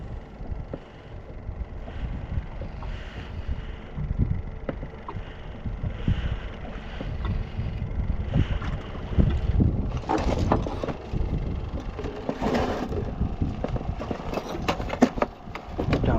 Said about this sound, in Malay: Angin kuat kan?